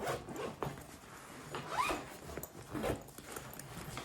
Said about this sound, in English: there's a zipper pocket at the bottom